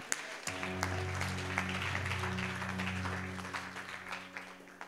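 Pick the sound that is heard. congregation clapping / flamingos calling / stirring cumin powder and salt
congregation clapping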